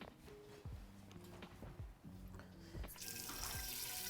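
Hot water runs from a tap into a big pot, a steady stream with a few clanks of the pot being handled. It rises to a louder gush near the end, with no talk over it.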